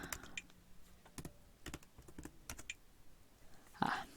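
Keystrokes on a computer keyboard come in short irregular bursts with pauses between them, fairly close and quiet, with a louder clatter near the end and no talking.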